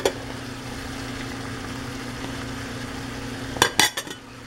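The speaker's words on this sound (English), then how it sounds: "And give it another good stir." Metal spoon stirring chimichanga filling with freshly added cilantro in a pan after the heat is turned off: a quick burst of scraping clinks near the end over a faint steady hum.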